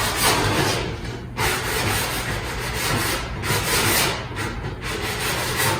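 Sandpaper rubs back and forth over the profiled edge of an oak cabinet door, close and fairly loud, giving steady gritty strokes with short pauses between passes.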